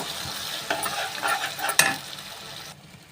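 Spice masala frying in oil in a village kitchen for gutti vankaya pulusu, with a steady close sizzle and intermittent scraping stir strokes, then quieting at the end.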